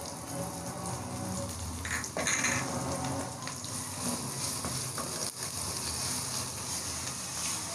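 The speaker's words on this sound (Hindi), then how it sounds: "तो अब हम इसमें ऐड कर देंगे अदरक लहसुन का पेस्ट।" Ginger garlic paste sizzles in a pan with frying onions, a steady close crackle and hiss with occasional stirring scrapes over it.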